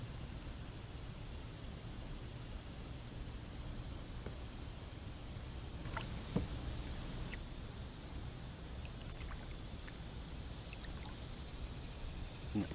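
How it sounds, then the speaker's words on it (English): A kayak is paddled across open water while bass fishing in summer, giving a soft, steady wash of water and faint paddle strokes under low background noise. "while I'm paddling, moving from one spot to another spot"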